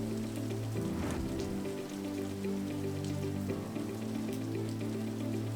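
Heavy rain falling steadily at a sugar industry site, a continuous dense patter of drops with a low steady hum beneath, moderately faint and without any voices.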